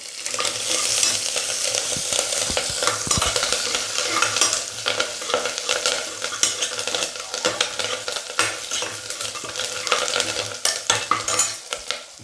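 Crushed ginger, garlic, green chili and curry leaves fry and sizzle in a pan for tomato rasam, with continuous stirring and occasional clinks of a spoon against the pan.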